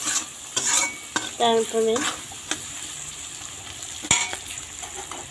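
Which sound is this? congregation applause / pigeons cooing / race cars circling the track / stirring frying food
stirring frying food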